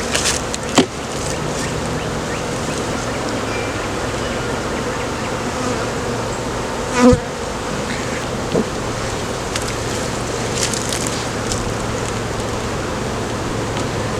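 Honeybees buzzing around open frames during a spring hive inspection, a dense steady hum close by with a few louder bees passing near.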